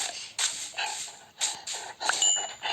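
A dog in a video game barks and yelps in several short bursts, close and fairly loud, with uneven gaps between them.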